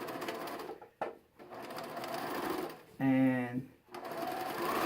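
A sewing machine stitches fabric along a half-inch seam in a short, steady whirring burst, close by, between stretches of someone talking.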